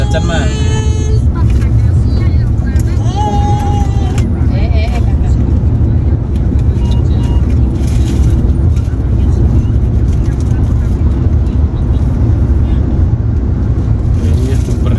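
A car cruising at a steady 100 km/h on the Trans Java toll road, with a constant loud rumble of engine and road noise throughout and people talking over it.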